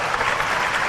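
An audience of student council leaders claps in a dense, steady burst of applause, brief and fairly loud.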